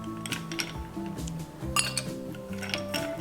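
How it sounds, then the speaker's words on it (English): Ice cubes are grabbed and dropped into a glass for an iced matcha latte, making a quick run of bright clinks and clatters close by. "grab some ice cubes."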